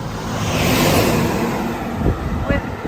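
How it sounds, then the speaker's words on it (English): Large trucks roaring past on a roadside along the Portuguese coastal Camino near Redondela and Pontevedra, a loud sustained engine rumble and rushing whoosh close by with a second vehicle surging near the end. "with huge trucks passing by"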